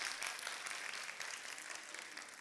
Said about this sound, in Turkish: Fenerbahçelilerden bir alkış.